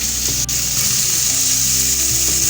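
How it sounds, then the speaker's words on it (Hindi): Vegetables stir-fry in oil with a loud, continuous sizzle close up, and a few quiet stirring knocks come through it, with nobody speaking. "इनको हमने बहुत ज़्यादा पकाना नहीं है, बस हल्का सा इनको स्टर फ्राई कर लेंगे"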